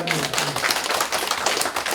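An audience in a leadership lecture hall at a Korean college claps in dense, continuous applause that stays loud and steady for the whole two seconds.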